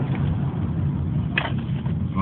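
A thrashed BMW 328is E36 with a worn engine accelerating in second gear, a steady loud engine drone from inside the car with a brief sharp noise midway and a voice briefly audible under it.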